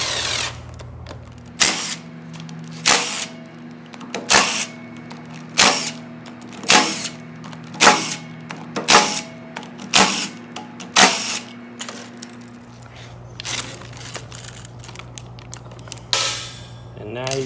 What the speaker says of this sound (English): Now you have to take out all your 6mm bolts.